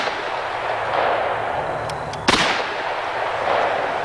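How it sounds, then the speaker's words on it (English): A single sharp gunshot from a .357 Magnum revolver firing a 140-grain full-charge load, loud and close, standing alone over steady outdoor background noise. "This is a 140 grain full charge 357 Magnum ammunition."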